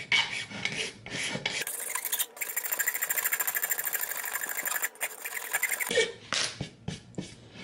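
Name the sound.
razor blade scraping wood burning off wood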